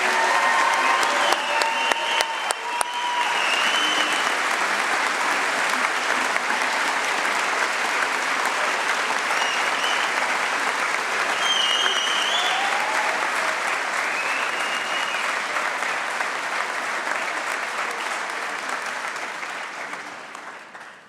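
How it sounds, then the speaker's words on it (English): Audience applause at a high school graduation ceremony: loud, sustained clapping from a large crowd that keeps going for about twenty seconds before tapering off at the end. "a round of applause, please."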